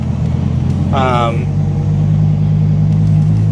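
A Dodge Viper with a GCC triple disc clutch kit drives slowly in first gear around a shop lot outdoors, its engine a steady low rumble that runs throughout, with someone talking briefly over it.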